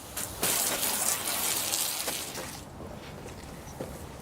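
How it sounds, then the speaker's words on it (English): A garden hose sprays water across an outdoor deck during cleaning, a loud, steady broadband gush that runs for a few seconds, then eases off into quieter trickling and splashing toward the end. "I'm just going to hose this down"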